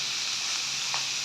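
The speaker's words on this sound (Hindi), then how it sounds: "प्याज को हम लोग 4 से 5 मिनट के लिए फ्राई करेंगे।" Chopped onions fry in hot oil in a pan while an egg omelette is being made. The result is a constant, bright sizzling hiss, steady and close, with no talk over it.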